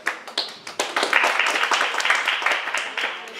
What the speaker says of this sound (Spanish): De un aplauso al pastor.